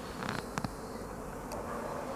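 A honeybee weakened by heavy varroa mite damage flies feebly, giving a few brief, faint buzzing bursts close by over a quiet background hiss.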